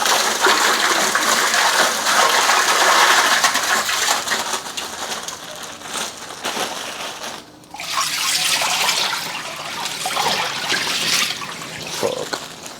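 Water sloshes and splashes close by as someone lowers into an ice bath, with a brief pause midway before the churning resumes, no words spoken.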